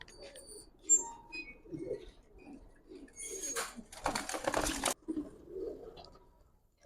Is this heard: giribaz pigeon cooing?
yes